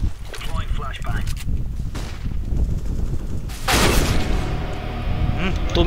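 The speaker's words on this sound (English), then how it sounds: "Deploying flashbang." Flashbang grenade goes off in a tactical shooter game, one loud bang followed by a ringing wash over ongoing game noise, with a player's voice underneath.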